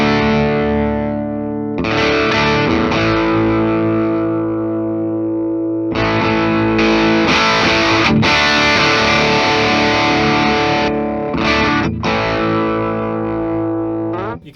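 A 2023 Gibson Les Paul Modern Figured electric guitar plays heavy distorted chords, loud and sustained, with a few brief breaks and pick attacks between ringing phrases.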